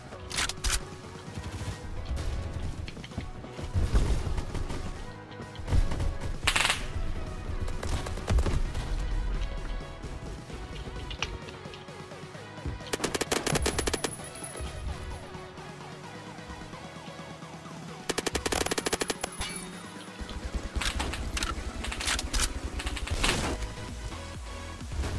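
Rapid gunfire from the Phantom Forces shooter game, with sustained bursts and repeated sharp shots stacked over a loud, busy mix of game sound throughout.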